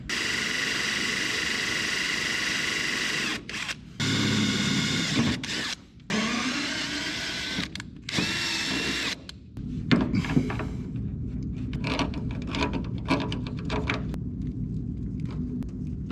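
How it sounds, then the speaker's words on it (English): A power drill whines in long loud bursts with short pauses while drilling and tapping the metal frame of a 1930 Model A, then gives way to irregular clanks and rattling against metal. "We're gonna drill and tap that."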